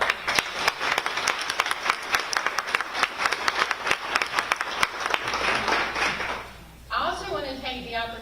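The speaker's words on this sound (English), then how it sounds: "Let's give them a round of applause." Audience applause at a ribbon-cutting for a new crisis center at AltaPointe Health, scattered claps building into steady clapping, then dying away as a speaker resumes talking.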